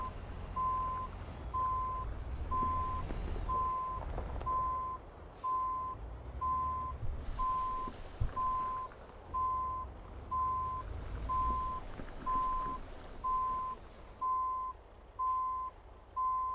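Reversing beeps sound in American Truck Simulator as a truck backs up, a steady repeating single-tone beep at an even pace over a low engine rumble, with no talk.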